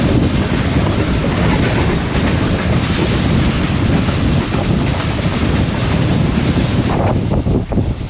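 Blue Tiger AG30 locomotive hauling an express train past on the Lahore to Karachi line, a loud continuous rushing roar of passing cars with wind buffeting the microphone.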